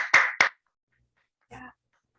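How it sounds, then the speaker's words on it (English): A couple of sharp, close hand claps ring out on a virtual book fair Zoom call for the table-reading readers, followed by a brief murmur of voice and then silence. "why don't we give like a round of applause as best we can on Zoom for Justin, Caitlin, and Allie"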